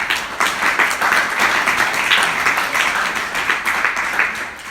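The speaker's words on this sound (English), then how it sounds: "Let's have a round of applause for that" Sustained audience applause at a Birdfair 2019 environmental debate, a dense, steady wash of many hands clapping at moderate distance, continuous throughout and tapering slightly at the end.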